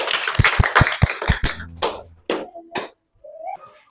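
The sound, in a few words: classroom applause for a student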